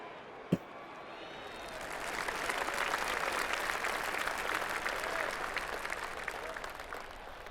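Virtual gallery crowd in the golf game PGA TOUR 2K25 breaks into a swelling roar of cheering and applause after a brief sharp knock, sustained and fairly loud before easing slightly toward the end.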